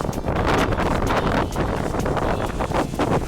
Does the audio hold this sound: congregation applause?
no